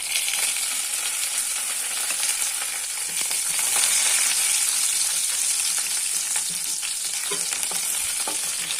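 Grated coconut and curry leaves sautéing in hot oil for an anchovy fish gravy, a steady bright crackling sizzle with stirring scrapes running throughout, close and loud.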